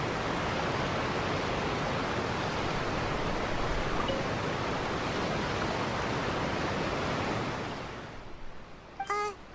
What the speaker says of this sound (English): That waterfall is loud.